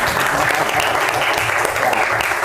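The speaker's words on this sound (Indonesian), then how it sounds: "tepuk tangan untuk kita semuanya biar semangat" An audience at a school event at SMA Islam Hidayatullah Semarang claps together: dense, even applause that stays loud and steady for the whole stretch.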